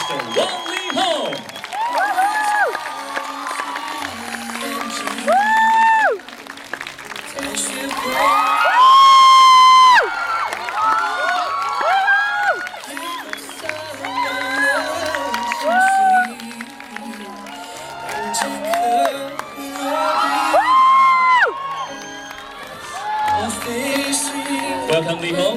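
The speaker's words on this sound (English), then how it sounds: "Please give your biggest applause to the leading man and director, Mr. Wang Lee Hom" A large event crowd cheers, whoops and applauds loudly for actor-director Wang Lee Hom at a Sony Ericsson event, a sustained roar with shrill screams rising and falling throughout and brief peaks of louder shrieking.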